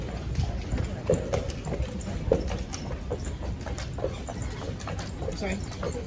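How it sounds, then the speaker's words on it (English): Horse hooves clip-clop in a slow, steady rhythm, close by in Charleston, with other voices and background noise mixed in. "a real slow horse today"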